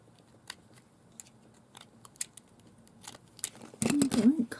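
Scissors snip through sari fabric in a scatter of short, sharp close cuts with quiet gaps between them, ending in a louder burst of rustling handling.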